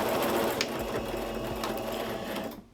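A sewing machine stitches steadily with an all-purpose presser foot, giving a fast, even mechanical whir at close range. The stitching runs continuously and stops near the end, with no talking.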